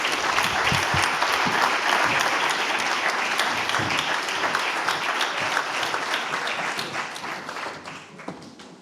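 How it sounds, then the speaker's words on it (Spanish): Attendees at a national sustainable-construction congress applaud, a loud, dense crowd clapping with distinct individual claps cutting through, sustained throughout and gradually thinning and fading at the end. "no sé si tenéis intención de dar un aplauso, pero yo os lo pediría"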